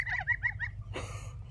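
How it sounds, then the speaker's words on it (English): Geese on a small farm give four quick, nasal honking calls close by, then a brief burst of rustling noise follows. Nobody speaks. "There's the geese,"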